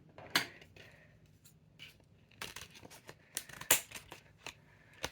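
Scissors snip open a Crafter's Companion stamp and die package with several sharp, separate cuts and crinkling plastic, close and fairly quiet, spread unevenly over a few seconds without talk.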